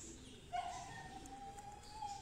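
Pigeons coo softly at a rooftop loft of breeding pigeons, a faint low murmur over background hum with a thin tonal whistle running through.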